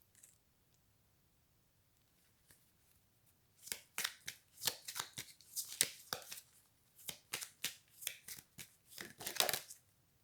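Tarot cards being shuffled by hand, a quiet start followed by rapid bursts of close, crisp riffling and slapping that come in quick repeated runs.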